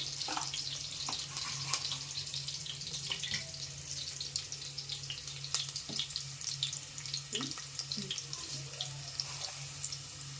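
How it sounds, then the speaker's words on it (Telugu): Mustard seeds and cumin hit hot oil for drumstick sambar: a constant close sizzle full of quick, irregular crackles and pops, with a low hum underneath throughout. "అందులోకి ఆవాలు, జీలకర్ర వేసేసుకోవాలి"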